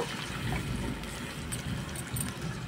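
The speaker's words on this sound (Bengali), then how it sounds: "মশলার বাটিটা একটু ধুয়ে দিয়ে দেব" Water from rinsing a spice bowl poured into a cooking pan with frying spice paste, a short steady trickling and bubbling splash, close and moderately loud.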